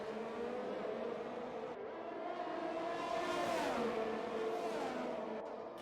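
Several race cars in a racing video game tear through the Baku city street circuit, engines droning loud and continuous with rising and falling pitch as they chase toward a corner, one swelling past mid-clip.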